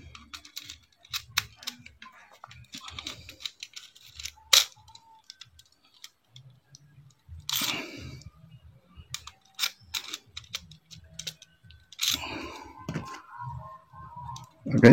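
Small clicks, ticks and scraping taps of a screwdriver tightening the terminal screw on a double wall switch, irregular and close, with short pauses between bursts.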